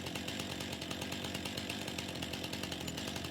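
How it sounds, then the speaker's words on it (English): A chainsaw runs in the video game Farming Simulator 25, a steady, buzzing engine drone with quick rhythmic pulses throughout. "so let's get our chainsaw here."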